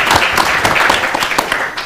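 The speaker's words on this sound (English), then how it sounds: "A big round of applause to Chandrababu Naidu garu." Audience applause at a GFST conference in honour of Chandrababu Naidu, a steady, dense crackle of many hands clapping that fills the whole stretch and fades slightly toward the end.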